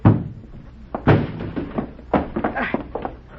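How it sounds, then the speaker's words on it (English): A radio drama sound effect of a door being broken down: two heavy thuds land about a second apart, followed by softer scuffs and knocks. "Break down the door."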